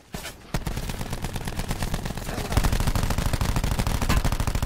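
Rapid automatic gunfire rattles in Call of Duty Black Ops 4 Blackout: a short lead-in shot, then a sustained, evenly spaced stream of loud close shots that grows heavier toward the end.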